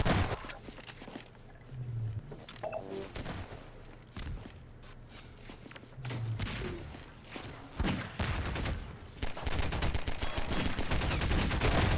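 Rapid pistol shots in a Half-Life 2 Deathmatch 2v2 match, crackling repeatedly among other gunfire and game noise, loud and close throughout.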